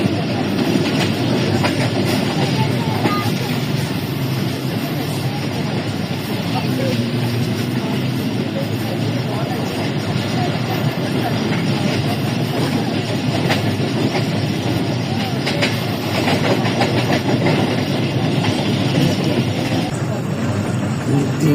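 Pakistan Railways passenger train running between Rawalpindi and Gujrat near Chameli station, a steady loud rumble of wheels and carriages with rhythmic clickety-clack throughout, heard from inside, with faint voices mixed in.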